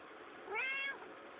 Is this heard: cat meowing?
yes